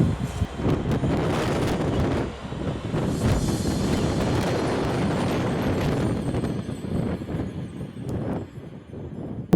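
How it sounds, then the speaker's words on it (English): Strong wind roars and buffets the microphone continuously on a hike in the Peak District, England, a loud rumbling gusting rush with no other clear sounds. "That's a windy boy."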